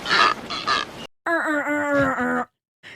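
A person imitates a bird call with their voice, producing a few breathy strained squeaks, then a long, loud, tonal warbling cry that bends in pitch, and a brief final chirp.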